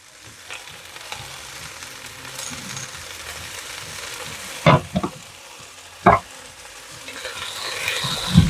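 Vegetables for nikujaga, including carrots, sauté in oil in a Dutch oven, giving a moderate steady sizzle punctuated by a few sharp clanks of a utensil on the pot.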